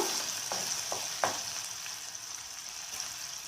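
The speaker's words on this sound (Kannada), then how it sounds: "ಇನ್ನು ಒಂದು ಸ್ವಲ್ಪ ಮೆತ್ತಗಾಗಬೇಕು ನಿಮಗೆ ಸ್ವಲ್ಪ ಚೆನ್ನಾಗಿ ಫ್ರೈ ಮಾಡಬೇಕು" Mutton liver with chana dal frying in a pan gives a soft, steady sizzle close by, broken by a few light stirring scrapes and clinks, with no voices.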